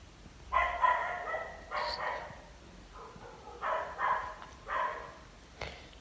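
A neighbor's dog barks in several bursts of sharp, moderately distant barks, with gaps of quiet between volleys and a faint click near the end.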